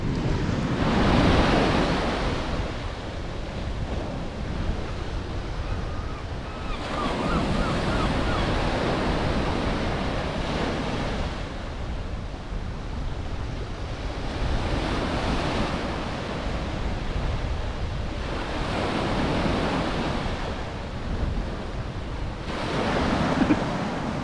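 Sea waves break on the shore at Lyme Regis, a roaring wash that swells and recedes in slow surges every few seconds, mixed with gusty wind buffeting the microphone and no talking.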